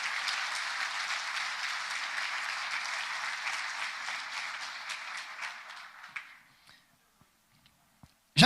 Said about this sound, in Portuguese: Você pode aplaudir, glorificar a palavra de Deus?